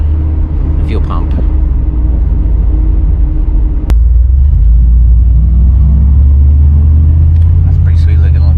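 A Nissan 370Z sports car passing on the road, its engine rumbling in a steady low drone that swells and shifts midway, heard over a truck cab's constant background noise with a voice talking.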